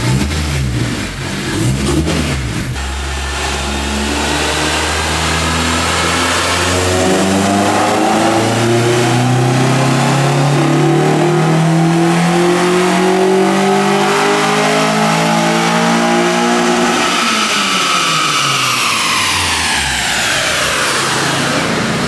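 An Acura TSX with full bolt-ons, tuned and strapped to a dyno, climbs through a long, loud, steadily rising engine rev, then lets off and winds down near the end.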